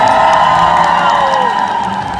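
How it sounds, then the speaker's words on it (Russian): A large audience at Comic Con Russia cheering and whooping loudly, a dense sustained roar of crowd voices that eases slightly toward the end. "Аплодисменты, ребят"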